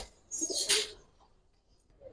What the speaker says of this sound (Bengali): 3টাই চুইঠাল কবুতর